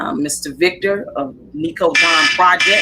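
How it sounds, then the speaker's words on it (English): An alarm buzzer sounds loudly and steadily, partly under a person speaking and then sharply louder near the end. "that is my alarm"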